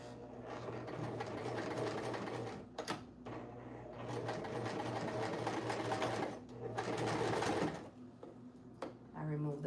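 A sewing machine runs in long steady bursts, stitching fabric for a skirt, with brief stops between runs and a low hum underneath, close and clear.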